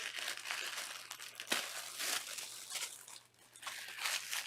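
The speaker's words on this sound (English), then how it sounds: "I'm getting inside that paper." Paper wrapping on a yarn subscription box crinkles and tears in close, quiet bursts, with brief pauses between handfuls and no talking.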